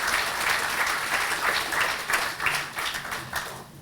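Audience applause at the opening of a new county library in Middletown, New Castle County: a dense, steady wash of many hands clapping at moderate loudness, continuing for several seconds without a break.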